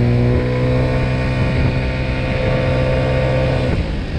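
A scooter engine runs steadily, loud and close, with a constant droning tone that shifts slightly near the end.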